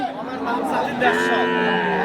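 A cow moos in one long, loud, sustained low call, close by, at a busy cattle market, with faint crowd chatter underneath.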